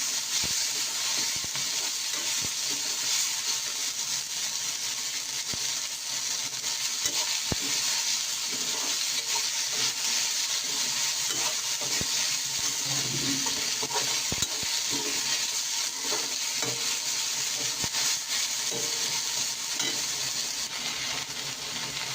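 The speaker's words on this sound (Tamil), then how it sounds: "தக்காளி எல்லாத்தையும் போட்டு நல்லா வதக்கலாம்" Tomatoes, small onions and curry leaves sauté in a pan for a black chickpea curry, giving a constant dense hiss with occasional soft stirring scrapes, close and steady throughout.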